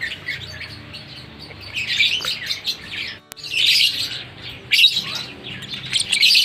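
Lovebird chicks chirp and tweet while learning to crack millet seed, a dense run of high, rapid calls in bursts with a brief pause midway, fairly close and continuous.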